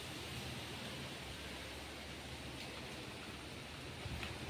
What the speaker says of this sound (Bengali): ঝড় উঠেছে, খুব হাওয়া দিচ্ছে